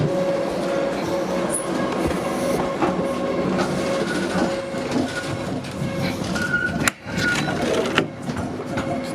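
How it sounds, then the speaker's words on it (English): An A-class tram runs along the St Kilda light rail in Melbourne, with loud, steady rolling rumble and rhythmic wheel clatter heard from onboard, a sharp clunk late on and a faint squeal of wheels on the rails. "There's two other A-class trams on the light rail."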